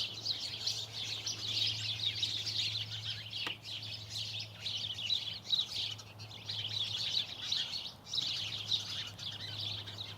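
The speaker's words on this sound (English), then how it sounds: "This is a recording of my birds underneath my bamboo that I planted." A chorus of backyard birds chirps continuously from bamboo planted as a wildlife habitat, bright overlapping tweets rising and falling over a low steady hum.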